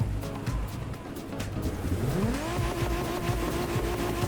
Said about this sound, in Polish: Ja nie trzymam hamulca, ja mam sam gaz.